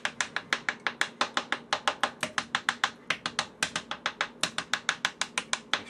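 Raw eggs, thirty of them, whisked in a pan into a scramble: a fast, steady run of sharp clicking taps, close and loud, with no talk over it.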